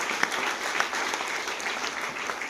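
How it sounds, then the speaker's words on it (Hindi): Dense, enthusiastic clapping from a seated crowd at a business-plan meeting, held at an even level through the whole short stretch. "हमारे सभी सीनियर के सम्मान में एक बार जोरदार ताली हो जाए"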